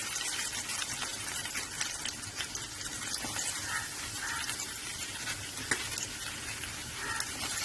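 Onion stirred and sautéed in a pan while making tomato chutney gives a soft, steady sizzle with faint scraping and stirring clicks throughout, fairly quiet and close, with no voices.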